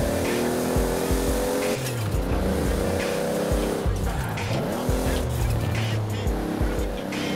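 A Toyota Trueno drifting in the racing game Forza, engine revving and wavering under long, loud, continuous tire squeal that runs for the whole stretch.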